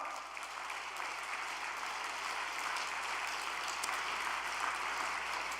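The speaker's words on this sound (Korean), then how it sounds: "우리 2세, 3세 여러분들의 어머니, 아버지를 위해서 박수 한번 보내드릴까요?" A congregation at an all-night church prayer gathering claps steadily in honor of parents, an even wash of applause that swells slightly toward the end, with no speech over it.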